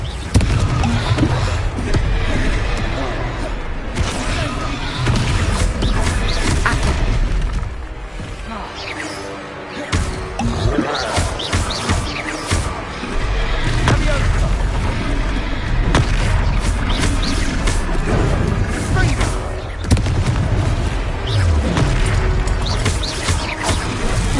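Confringo blasting spells explode in Hogwarts Legacy combat, giving loud, booming blasts over a dense, continuous bed of crashing and rumbling battle effects. The noise stays intense for the whole stretch.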